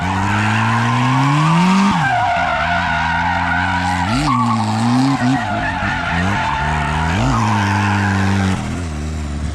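A Nissan S13 drifting on a street wails with a loud, sustained tire squeal over a revving engine whose pitch rises and dips repeatedly as the throttle is worked.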